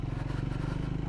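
A Triumph Speed 400 motorcycle labours slowly along a broken, rocky off-road mountain trail from Dumre to Chame in Nepal, its low engine throb steady and continuous, close and fairly quiet.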